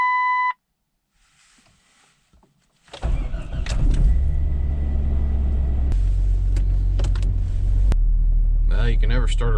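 A Jeep Cherokee engine starts after a short beep, then settles into a steady low rumble as the vehicle idles and pulls away, with small clicks and shifts along the way.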